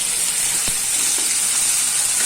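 A ground paste of ginger, cumin, tomato and green chilli hits a hot pan and sizzles with a steady, close hiss that holds evenly throughout, with no talking.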